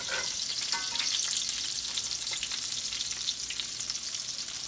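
Salmon patties frying in hot oil, a steady close sizzle with bright crackling pops throughout and no talking.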